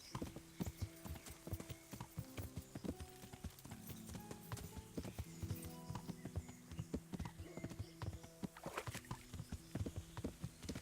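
A horse's hooves clip-clop rapidly in the video game Kingdom Come: Deliverance, a quick irregular run of close hoof strikes with snorts and tack jingles, fairly faint and continuous throughout.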